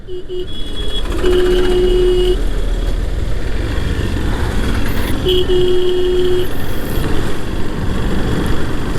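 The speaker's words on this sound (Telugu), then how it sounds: "హారన్ చూడండి." On a road, a vehicle horn sounds several times, a couple of short toots then two longer blasts, over continuous loud engine and traffic rumble.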